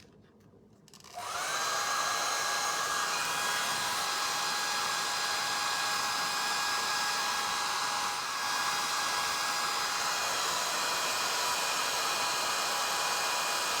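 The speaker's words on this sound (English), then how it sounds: "I'm going to hit it with a hair dryer real quick." A hair dryer switches on after a brief quiet moment and blows in a steady, loud, close whoosh with a high whine, held continuously while drying a damp book cover, with a slight dip partway through.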